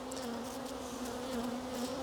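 Honey bees buzzing in a close, steady drone around hive frames, a constant hum with occasional brief louder passes.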